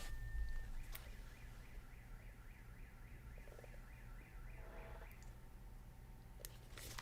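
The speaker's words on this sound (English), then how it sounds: "someone's car alarm is going off" A car alarm goes off outside at a distance, cycling through a warbling siren tone and then changing pattern, faint against a low indoor hum with scattered clicks.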